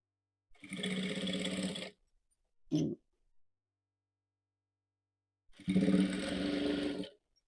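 A sewing machine stitches piping onto a blouse in two steady buzzing runs of about a second and a half each. A quiet gap with a brief knock separates them.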